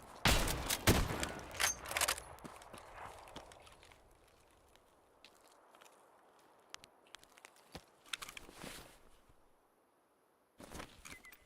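Escape from Tarkov gunshots crack out in a quick cluster of sharp reports, then scattered single shots and a final short burst, separated by quiet stretches.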